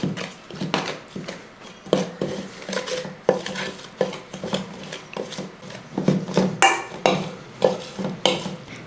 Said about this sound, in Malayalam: ഇനി ഇത് സ്പൂണും കൊണ്ട് തന്നെ നമുക്കൊന്ന് മിക്സ് ചെയ്തെടുക്കാം.